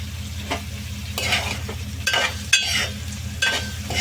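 Thick-cut bitter gourd pieces fry with onions in a pan, giving a constant low sizzle broken by several scraping stirs that come every second or so, close and clear with no talking.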